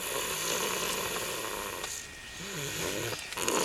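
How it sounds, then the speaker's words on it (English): An 18-month-old toddler snores in soft, rough breaths, a continuous low rasp that swells and fades with each inhale, heard close up and alone. "snoring like his daddy"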